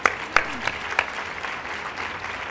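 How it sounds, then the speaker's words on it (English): Audience at a women's leadership luncheon claps: a few sharp, distinct claps at the start, then a softer diffuse patter of applause in a roomy hall. "You can clap at that."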